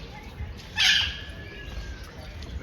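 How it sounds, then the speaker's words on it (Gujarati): A single short, harsh squawk from a green parrot at a zoo in Surat bursts out over a quiet, steady background hum, then fades. "આયા છે આપણે લીલા પોપટ"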